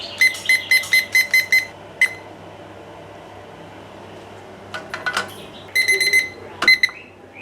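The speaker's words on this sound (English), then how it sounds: "I'm gonna set my timer" Kitchen oven timer beeping in quick repeated bursts of high electronic tones, a run of six or seven at the start, a lone beep, then more clustered beeps later, loud and close with no talking.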